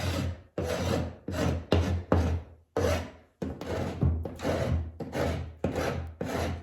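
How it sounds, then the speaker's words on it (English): Repeated close scraping strokes over saltwash-painted furniture, about a dozen rasping passes in a steady rhythm, each a loud burst with short pauses between. "So I'm gonna scrape all over this and get down so you can see all the different colors."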